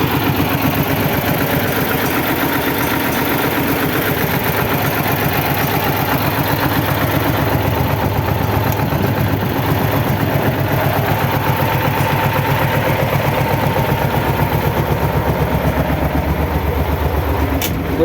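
A small tractor engine idles steadily and loudly nearby, a constant rumbling chug with no pauses.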